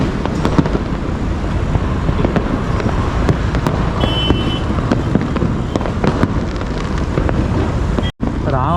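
Diwali firecrackers crackle and pop continuously, seen from a bridge, a dense loud barrage mixed with heavy wind rumble on the microphone.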